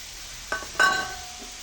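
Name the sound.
stirring dried prawn and ponnanganni greens fry in pan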